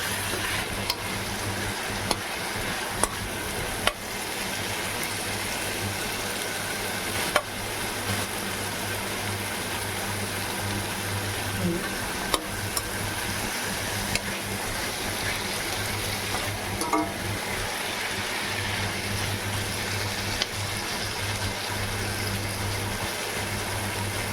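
Vegetables cooking in a pan, a steady soft sizzle with occasional clinks and stirring taps, continuous and moderately loud for the whole stretch.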